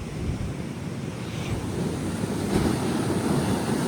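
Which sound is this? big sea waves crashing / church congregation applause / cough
big sea waves crashing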